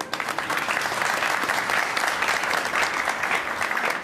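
Audience clapping at a Sri Ram Navami celebration, a dense, steady burst of applause that holds evenly at close range for about four seconds with no voices standing out.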